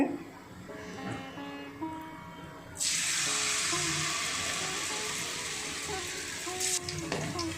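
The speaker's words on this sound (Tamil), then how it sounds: "வறுத்து எடுத்துக்கோங்க" Ingredients for a vegetarian nethili fish curry hit hot oil in a kadai and burst into a steady, bright sizzle that continues after a quieter opening, with a person talking over the frying.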